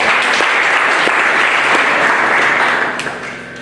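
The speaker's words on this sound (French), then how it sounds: "Applaudissez d'abord pour lui." An audience at a culture and arts capacity-building seminar applauds steadily, a dense, loud wash of clapping that holds evenly and then fades near the end.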